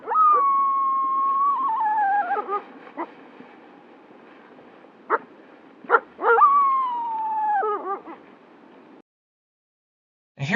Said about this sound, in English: a female wolf uses what's called a bark howl after she was chased and nearly killed by a rival pack